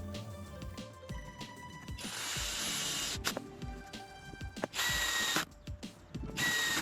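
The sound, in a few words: power drill drilling into wood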